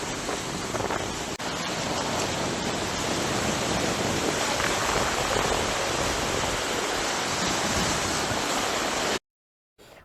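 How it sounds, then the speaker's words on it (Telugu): Floodwater rushes across a washed-out road near the Edupayala temple in Medak, a loud, steady, broadband roar that continues without pause, then cuts off abruptly near the end. "రోడ్డు పూర్తిగా కోసుకుపోయి వరద ప్రవహిస్తోంది"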